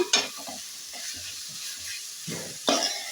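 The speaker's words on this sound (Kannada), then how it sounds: "ಈಗ ಇದೇ ತುಪ್ಪ ಇದಕ್ಕೆ ಸೋರೆಕಾಯಿನ ಹಾಕೋತಾ ಇದ್ದೀನಿ ನೋಡಿ ಇದನ್ನು ಚೆನ್ನಾಗಿ" Grated bottle gourd sizzles in hot ghee while a spoon stirs it, a close, steady hiss of frying broken by soft scraping strokes in the pan.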